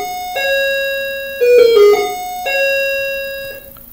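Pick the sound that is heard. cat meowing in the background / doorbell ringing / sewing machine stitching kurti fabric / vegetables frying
doorbell ringing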